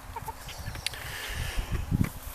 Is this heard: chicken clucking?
yes